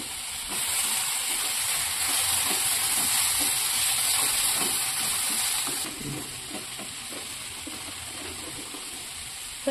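Tomatoes with cashews and almonds frying in a pan for paneer tikka masala, a steady hissing sizzle with soft stirring clatter, louder at first and easing slightly in the final seconds, with no voices.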